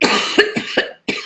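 A woman coughs several times in quick succession, close and fairly loud, with short harsh bursts separated by brief pauses and a final cough after a moment of silence.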